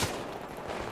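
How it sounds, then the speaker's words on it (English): Rapid gunfire in Battlefield 4 multiplayer, a brief dense burst of shots close by with no talk over it. "Oh, now I'm getting shot at."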